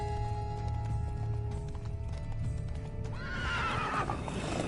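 A horse in The Witcher video game whinnies loudly near the end, with hooves clopping and shuffling before it, all over a low ambient hum.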